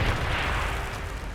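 A grenade explosion in the video game Atomfall, a dense, sustained rumbling blast with heavy low-end boom filling the whole moment, steady and loud without a clear single onset.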